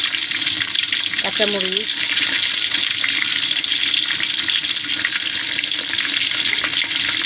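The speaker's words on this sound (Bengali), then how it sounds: "সুন্দর করে নেড়ে চেড়ে নিচ্ছি" Ginger and green chilies stir-frying in a pan, a steady loud sizzle running throughout with a brief voice speaking early on.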